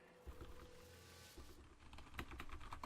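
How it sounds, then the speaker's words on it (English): Quick soft keystrokes on a computer keyboard during a ranked online game, a faint irregular clatter of taps that grows busier toward the end, with no talking. "Also, I should probably just avoid typing."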